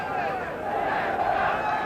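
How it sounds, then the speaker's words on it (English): A French crowd chants in unison in a rugby stadium during a 1990 France versus Australia match, a loud, steady wash of massed voices swelling slightly toward the end. "And the chant goes up from the French crowd."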